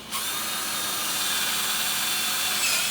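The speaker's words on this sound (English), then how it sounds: "I'll just double drill it." A handheld power drill running continuously at high speed while building a cage, a loud, close, steady whine that holds nearly unbroken throughout, with no talking.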